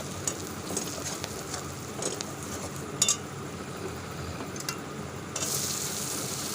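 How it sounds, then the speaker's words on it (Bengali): Chopped onion sizzling in hot oil tempered with broken chillies for a pumpkin, Malabar spinach and prawn ghonto; a steady, soft frying hiss runs throughout, with occasional light clinks of a utensil and a brighter surge of hiss near the end. "দিয়ে দিলাম কুচনো পেঁয়াজটা দিয়ে ভালো করে কষিয়ে"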